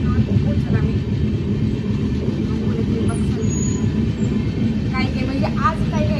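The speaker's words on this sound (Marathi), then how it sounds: "चला आता ट्रेन थांबली आहे, स्लो झाली म्हणजे आपलं लोकेशन आलेलं आहे" Train slowing down as it pulls into Coimbatore station in Tamil Nadu, a steady dense rumble of wheels and carriage noise continuing throughout, with a few faint squeaks and clanks and background voices.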